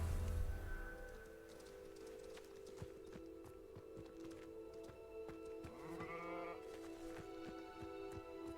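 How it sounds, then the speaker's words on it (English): A sheep bleats faintly in Hogwarts Legacy, a wavering cry partway through, over a steady low game background hum with scattered light clicks. "Oh no, the sheep."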